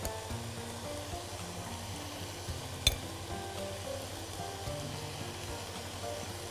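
Butter sizzling in a frying pan makes a steady, soft hiss that continues without a break for the whole stretch, with one brief clink partway through.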